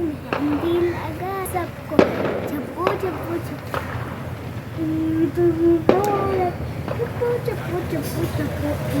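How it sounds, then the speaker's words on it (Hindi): Fireworks bursting in the open air for an Eid celebration, with sharp pops and booms scattered through a steady crackling background while people and children talk nearby. "सामने आतिशबाजी हो रही थी ईद की खुशी में।"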